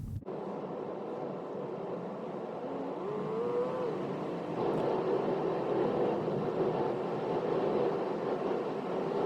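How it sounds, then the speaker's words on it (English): A learner car pulls onto a national speed limit road near Barnet, its engine note rising steadily as it accelerates, a continuous moderate drone with no talk. "as we enter the national speed limit, Olivia checks her mirrors before accelerating"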